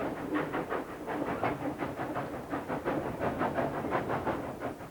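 A train on the way to Belgrade rolls steadily along with a hissing, chuffing rhythm, its regular beats pulsing about three times a second at moderate volume and no voices present.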